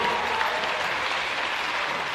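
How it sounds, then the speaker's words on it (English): A crowd at an under-20s netball grand final applauds, producing loud, dense, continuous clapping that fills the whole stretch without a break. "One more round of applause for the GWS runners-up under-20s Premier League."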